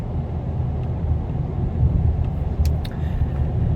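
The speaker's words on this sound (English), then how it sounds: "oh my goodness, this traffic." Steady low road rumble of traffic heard from inside a moving car, a constant droning hum with a couple of faint higher chirps near the end and no talking.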